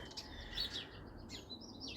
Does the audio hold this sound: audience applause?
no